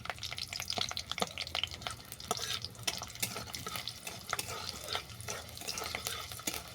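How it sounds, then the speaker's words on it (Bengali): Dried red chillies frying in hot oil, crackling with quick close pops and snaps over a continuous sizzle, interrupted now and then by stirring. "শুকনো লঙ্কাগুলো ফাটিয়ে দিচ্ছি"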